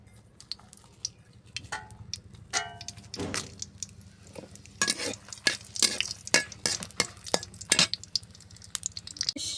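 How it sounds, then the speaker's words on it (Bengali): Dried red chillies frying in oil in a wok while greens are cooked, heard as scattered sharp crackles and clinking of a utensil against the pan, sparse at first and busier toward the end, close and fairly quiet. "তেলের মধ্যে দিয়ে লইম শুকনো মরিচ"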